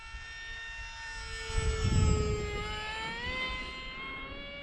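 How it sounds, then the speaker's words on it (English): A small E-flite Aeroscout RC plane's engine whines in a high, shifting buzz, swelling louder as it passes nearby and then easing off, with wind rumble underneath. "Again, it's a stunt plane."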